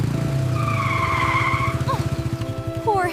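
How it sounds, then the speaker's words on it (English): A loud motorcycle skids to a stop on a long road, with tire squeal over a rumbling engine that pulses as it slows, followed by a brief high squeak. "Your motorcycle is very loud."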